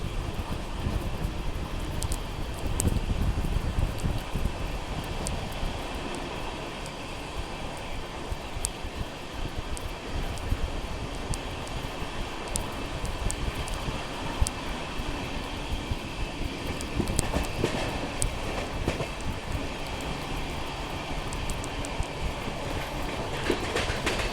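The SMVT Bengaluru-Mumbai LTT Weekly Express rolls along on its first commercial run, a loud, sustained rumble of wheels on track with recurring clickety-clack over rail joints and rushing wind, heard from on board and steady throughout.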